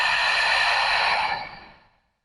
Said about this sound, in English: out through your mouth,